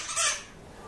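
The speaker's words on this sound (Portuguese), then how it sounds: "Um papagaio ali rindo da minha cara," A parrot gives one short, bright squawk outdoors, moderately loud and fading quickly, with no talking.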